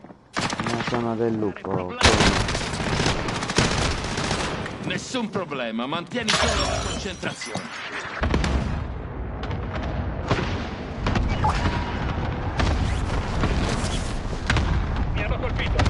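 Gunfire in a PS4 shooter game, bursts of shots and impacts running through most of the stretch, with game music and voices talking over it.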